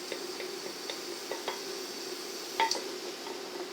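Soft frying sizzle as lardons are added to a pan and stirred, with scattered light clinks and scrapes of a utensil, one sharper clatter near the end, no talking.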